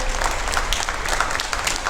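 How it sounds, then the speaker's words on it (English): Steady applause from a crowd of exhibitors and spectators at a national Alpine milking goat show, dense and continuous clapping filling the whole moment at an even level. "Let's give a big round of applause."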